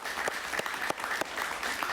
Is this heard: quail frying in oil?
no